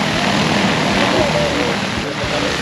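A large drone lifts off at an outdoor drone expo in Sertãozinho, its steady propeller drone loud and close, with a crowd murmuring and voices talking throughout.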